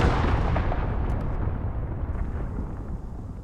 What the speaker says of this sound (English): Every time there's a cruise missile, it goes for me.